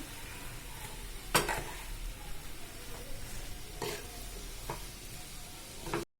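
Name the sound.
mixing mashed potato cutlet mixture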